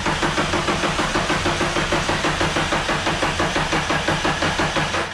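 A car engine idling roughly and not running right, a loud, steady rumble with a rhythmic pulsing lope throughout and no voices.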